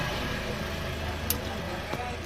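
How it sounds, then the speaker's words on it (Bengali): A repaired pickup truck's engine running, a steady low rumble throughout with a couple of brief clicks and a voice over it. "গাড়িটা কিন্তু আমাদের এবার চলবে মানে চালু হয়ে গেছে"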